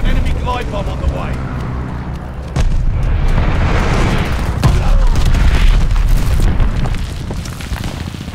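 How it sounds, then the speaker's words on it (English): A glide bomb blast from the Call of Duty: Vanguard Team Deathmatch game on PS5 lands as a loud, deep boom that swells into a sustained rumbling roar, mixed with game sounds and a voice. "Glide bomb on the way."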